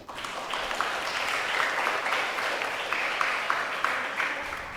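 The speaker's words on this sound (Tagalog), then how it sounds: "Pumalakpak nga yung gustong pumunta ng langit" A congregation at a novena mass for a Marian feast day claps together for a few seconds. The sustained, even clapping carries at moderate level, with a faint voice underneath.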